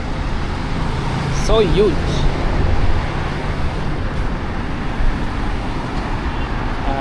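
Continuous roar of car and bus traffic circling a huge roundabout on Abu Dhabi city streets, heard up close and loud from the roadside, with a person briefly speaking over it.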